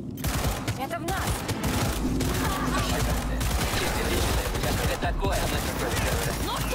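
Rapid gunfire bursts in a shootout from Cyberpunk 2077, dense and continuous over a busy game soundscape, with brief lulls between volleys.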